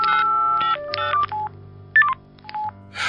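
Phone keypad dialing tones: a quick series of short touch-tone beeps of varying pitch, several separate key presses with brief gaps, loud and close, alone without talk.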